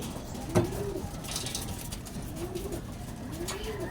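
Racing pigeons coo in low, rolling calls repeated every second or so against a steady background hum, with a brief bump of handling noise early on.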